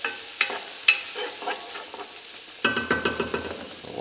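Bacon and garlic fry in a pan, a soft steady sizzle broken by repeated stirring scrapes and clacks, closer and busier in the last second and a half.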